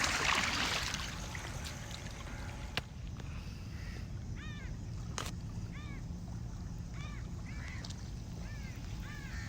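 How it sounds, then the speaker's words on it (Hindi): Irrigation water flows steadily into a field channel on a farm plot, a constant gurgling wash throughout, with faint bird calls chirping repeatedly in the background. "ये खाली के अंदर आ रहा पानी।"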